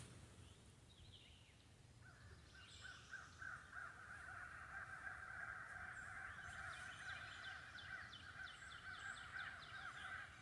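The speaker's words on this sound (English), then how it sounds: "Crows are noisy." Several crows caw repeatedly in the distance, harsh calls overlapping in uneven bursts over faint outdoor background noise.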